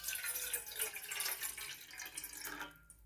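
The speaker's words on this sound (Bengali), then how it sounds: "এর মধ্যে আমি 1 কাপ জল দিয়ে দেব।" A cup of water poured into a steel pot sitting on a gas stove, a steady splashing pour with no talk that stops abruptly near the end.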